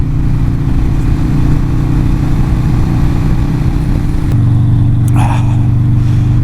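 A motorcycle engine drones loud and close as the rider opens the throttle, its pitch holding steady and then shifting into a deeper, heavier note partway through.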